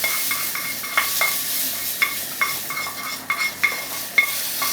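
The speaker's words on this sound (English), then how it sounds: "So give it a stir." Dal with a fresh cumin-seed tempering stirred in a pot: a spoon clicks and scrapes against the metal in irregular strokes over a steady background sizzle.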